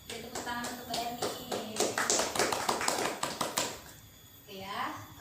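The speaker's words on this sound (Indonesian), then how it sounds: "tepuk tangan untuk Mbak Erni" Students in a Quran microteaching class clapping for a classmate, a brief round of sharp, close claps with voices talking through it, fading out before a voice speaks.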